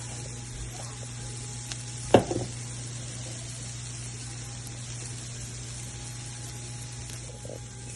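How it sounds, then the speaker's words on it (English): Mushrooms and spinach fry with onion in a pan, giving a soft, steady sizzle under a constant background hum, with a brief clatter of utensils near the start. "So my onion's about ready, and I'm going to add my mushrooms and my spinach."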